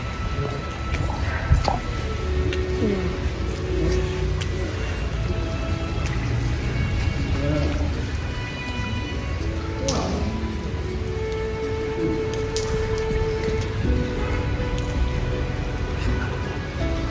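Rain falling at the Guru Padmasambhava stupa in Pharping, a steady close patter of drips and splashes on wet surfaces that continues without pause throughout.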